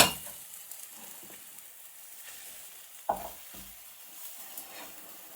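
An omelette with cheese sizzles softly in a pan, a steady frying hiss with a few light scrapes and one sharper clink of the utensil partway through.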